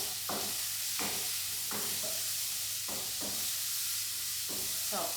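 Onions sizzle steadily in a pan with salt, a constant bright hiss under periodic soft scrapes and clicks of stirring, close and moderately quiet.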